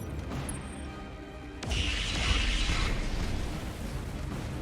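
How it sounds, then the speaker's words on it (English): A missile barrage from a BattleTech mech in the game Roguetech bursts into a loud, rolling explosion that swells suddenly after quieter low rumble and fades into a lingering roar, with no talking. "Locked on target. That's a lot of missiles."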